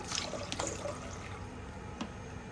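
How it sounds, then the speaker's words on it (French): Water poured into a salad bowl along with white vinegar, a soft, steady trickle and splash up close, with a few drips and light clinks, quiet and without talk. "ici dans un saladier, je mets de l'eau, du vinaigre blanc"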